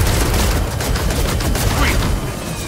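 Dense, sustained automatic gunfire in the video game Gears of War 4, a loud continuous roar of rapid shots with no breaks.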